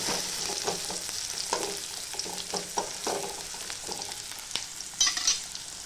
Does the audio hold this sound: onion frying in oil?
yes